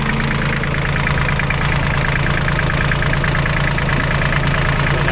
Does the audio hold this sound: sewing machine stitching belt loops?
no